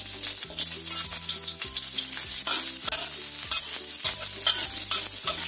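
Garlic and shallots frying in oil sizzle steadily and loudly up close, with scraping stir strokes throughout and soft background music underneath.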